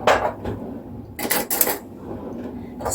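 A clean spoon is pulled from a kitchen drawer, with a few sharp metallic clinks and rattles of cutlery in quick bursts between quieter moments, close by and fairly soft.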